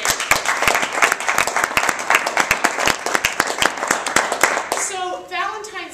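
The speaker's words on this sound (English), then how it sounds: "a nice round of applause for Stan" A small audience at a communication-skills demonstration claps for a volunteer, a close, crisp patter of individual claps that stops abruptly, after which a voice starts talking.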